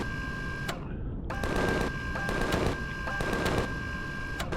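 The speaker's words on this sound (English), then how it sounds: "See if we can shoot that tree." Rapid gunfire in the video game Empyrion, aimed at a tree, comes in several sharp bursts of automatic shots with short pauses between them and a steady electronic tone underneath.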